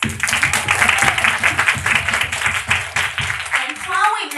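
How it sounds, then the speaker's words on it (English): A school audience applauds its teachers, with rhythmic, fairly close clapping heard under a speaking voice throughout. "why not give our teachers a big hand of applause?"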